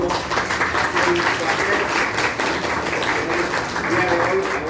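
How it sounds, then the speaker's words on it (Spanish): Steady, dense applause from an audience at a university talk on unconstitutionality, honoring speaker Marcelo; continuous and fairly loud throughout, with some voices mixed in beneath the clapping. "un aplauso para Marcelo"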